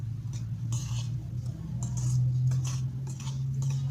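Flour and cornstarch seasoned with garlic, stirred with a utensil in a bowl for crispy fried chicken coating: intermittent soft scraping and clinking strokes over a low steady hum, close and fairly quiet.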